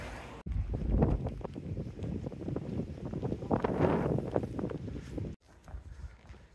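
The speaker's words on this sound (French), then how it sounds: "On a parfois des grands coups de vent." Strong wind from an approaching storm buffets the microphone in rough, rumbling gusts, rising and falling for several seconds before easing.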